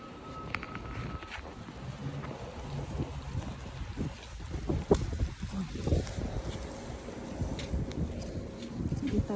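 Cold wind blows during snowfall in Burnaby, Canada, buffeting the microphone with a constant rough roar and gusty swells throughout, with faint voices underneath.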